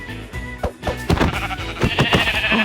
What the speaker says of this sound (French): On va aller directement et tuer le mouton.